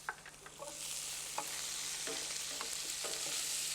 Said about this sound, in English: fry off in the butter here our little lardons